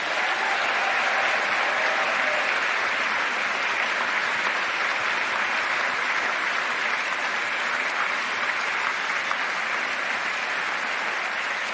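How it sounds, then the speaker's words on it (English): A large audience at a college closing ceremony claps steadily and loudly, a thick, even wash of applause sustained throughout without a break. "I would like to ask a big round of applause to them."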